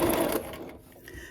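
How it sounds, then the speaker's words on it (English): Sewing machine stitching bias tape as a dress pattern is made, running steadily for a short burst and then easing off, quiet and close, with no talk over it. "I'm going to sew a couple of stitches and pull out this pin, and then I'm going to back stitch"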